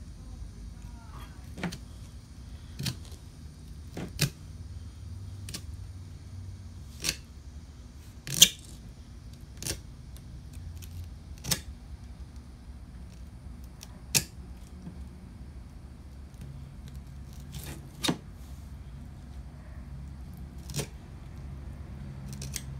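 Knife cutting behind the head of a bluegill during filleting, a series of sharp, separate clicks and crunches spaced every second or two over a quiet low hum.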